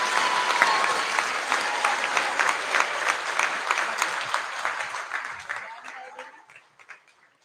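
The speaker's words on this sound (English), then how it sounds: "Can I have a round of applause for your 2026 head students?" Sustained applause from a large crowd at a high school senior prize giving, steady and loud, gradually thinning out and fading to scattered claps near the end.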